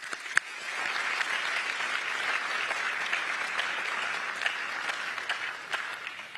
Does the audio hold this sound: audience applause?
yes